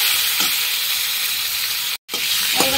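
Mango pieces drop into hot oil with mustard seeds and dried chilli, giving a steady close hiss and sizzle with a few spatters and clinks, briefly cut off for a moment before resuming.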